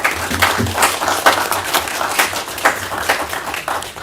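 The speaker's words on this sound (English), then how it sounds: "Please give her a round of applause." An audience at a court awards ceremony gives a round of applause, dense clapping that swells and dips in uneven bursts, fairly close and loud.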